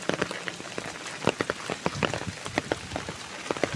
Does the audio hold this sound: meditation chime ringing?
no